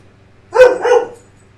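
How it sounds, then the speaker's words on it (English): A dog barks twice in quick succession at close range, two short loud yaps standing alone against a quiet background. "I'm not talking to the dog. The dog's talking to me."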